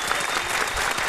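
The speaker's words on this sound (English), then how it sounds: "Give that a round of applause, man." A studio audience at a music interview show claps steadily in a dense, even wash of applause that carries on without a break.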